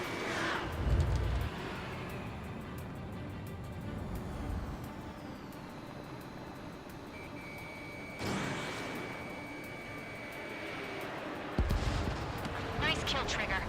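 Aircraft guns in the flight combat game Ace Combat 7 fire in rumbling bursts amid steady jet engine roar, with low booming hits at the start, middle and end, and radio chatter playing over the action.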